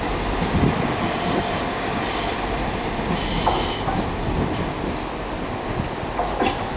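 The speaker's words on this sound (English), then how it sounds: "Now there goes 195-106 with a northern service to Chester" A Northern Class 195 passenger train pulls out of Leeds station with a rumbling engine, rail clatter and intermittent wheel squeals over steady background noise, with no talk.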